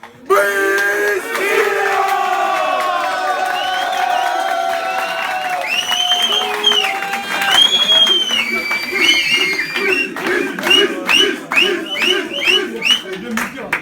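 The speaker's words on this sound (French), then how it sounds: "Je vous demande d'applaudir" A stadium crowd at a Stade Nantais event cheers, whoops and wails in a sustained roar that swells toward the end with clapping breaking through, loud and dense, with voices shouting among it.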